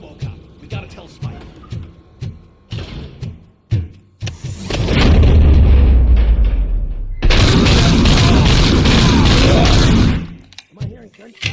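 Loud sustained gunfire from the video game RoboCop: Rogue City, scattered sharp shots early on building into two long dense bursts of rapid fire and booms, then dropping back to isolated cracks.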